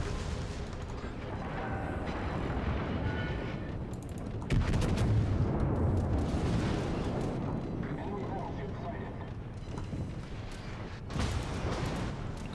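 Naval guns fire high-explosive shells in the World of Warships game, a dense run of loud booms and rumbling blasts that keeps going throughout, with a person talking over the gunfire.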